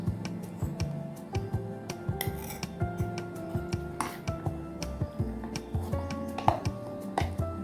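Freshly ground thuthuvalai chutney is scraped from a grinder jar into a bowl, producing a string of close, light clinks and taps of a spoon against metal and glass in an uneven rhythm, with no voices.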